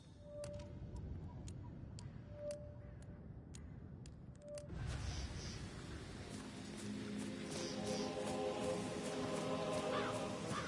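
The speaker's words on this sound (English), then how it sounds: "I'll never get rid of those stupid birds." Crows caw in short repeated calls over steady ambient noise in the Hitman 3 video game, then a denser layered game soundscape with music swells in over the second half.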